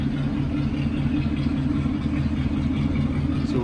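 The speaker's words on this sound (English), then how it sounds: "just hear how nice and quiet the car is." A 1941 Cadillac Series 62 Coupe idling quietly, a steady low engine hum with an even rhythmic throb, close by and unchanging, with no talking.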